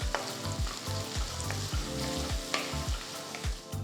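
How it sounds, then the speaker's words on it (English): Finely chopped onions saute in hot oil with roasted whole spices, a steady close sizzle and crackle with repeated stirring scrapes of a spoon against the pan. "Saute for about 2 minutes."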